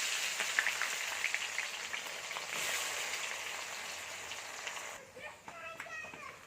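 Chopped onions tipped into hot oil with whole cumin and blackened spices for a Bengali goat-meat curry, a steady broad sizzle that drops and turns crackly and bubbling near the end.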